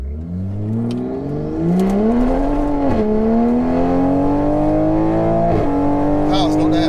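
A 760hp stage 3 Toyota Supra launches in second gear and accelerates down a drag strip. The loud engine note climbs through the revs, breaks at a gear change, then keeps pulling hard. A voice speaks briefly over it.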